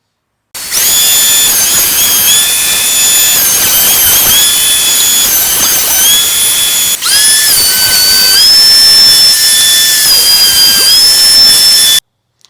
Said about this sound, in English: I'm about to put them through the jointer and the thicknesser.